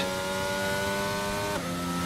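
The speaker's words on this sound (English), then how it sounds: "This should accelerate the car pretty fast." An F1 2022 race car on the Jeddah street circuit accelerates in the video game, its engine a steady high-pitched whine that climbs through the gears, with a sharp shift about halfway through.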